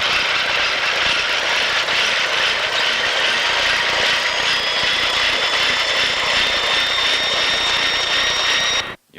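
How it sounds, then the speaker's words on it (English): Steady whirring mechanical hum of a videotape rewinding close to the camera, loud and continuous for about nine seconds with a high whine on top, cutting off abruptly at the end; no talking. "I can clearly hear you rewinding another tape next to the camera"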